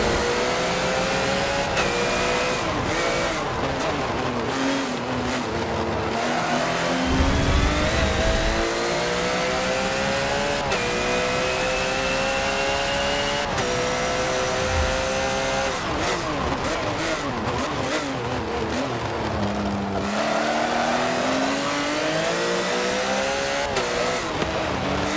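Race cars in Forza Motorsport 7 rev and accelerate together at the start of a race: a loud, continuous engine roar with rising and falling pitch sweeps as gears shift, and a faint voice occasionally over it.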